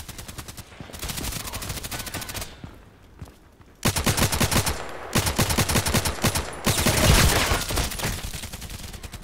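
Rapid automatic gunfire from the online shooter Contract Wars, loud bursts with short pauses between them and a few sustained volleys.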